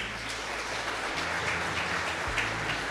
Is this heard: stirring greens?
no